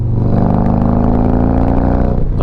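A Harley motorcycle fitted with a TAB Performance Redline exhaust revs hard and loud at close range, a thick, steady, deep rumble filling the whole moment with no talking.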